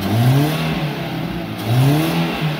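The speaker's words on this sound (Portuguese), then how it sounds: "Dá uma aceleradinha." A car engine on a mechanic's test run is revved twice, its pitch climbing and falling with each press of the throttle, loud and close with no talking.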